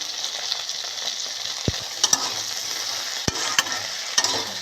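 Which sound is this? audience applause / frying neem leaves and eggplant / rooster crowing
frying neem leaves and eggplant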